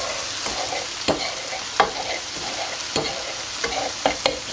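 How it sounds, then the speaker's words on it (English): Breadcrumbs stirred in a pan with a spoon give sparse, scattered scrapes and clicks over a soft, steady sizzle, close and fairly quiet, with no talking. "And we're gonna stir that around."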